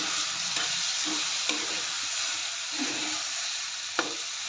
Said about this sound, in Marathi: सर्व मिक्स करून घेते